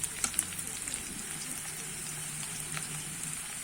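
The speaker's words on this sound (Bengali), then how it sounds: "একটু ভালো করে আমি পেঁয়াজটা ভেজে নেবো" Chopped onion fries in a pan with a soft continuous sizzle, quiet and close, with a few light clicks near the start and no voices.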